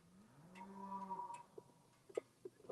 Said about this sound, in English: You guys hear the cows? Can you hear them?